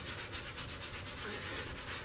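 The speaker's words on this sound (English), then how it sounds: "And then start polishing." A bone blade is polished by hand, giving a steady, close, continuous rubbing and scraping with an even back-and-forth texture and no pauses.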